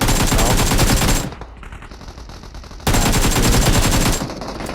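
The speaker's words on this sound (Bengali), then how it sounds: "এইভাবে ফায়ার দিচ্ছে।" Loud automatic weapon fire in the battle royale game PUBG on the Erangel map, two long sustained bursts of rapid shots separated by a quieter stretch, close and without talk.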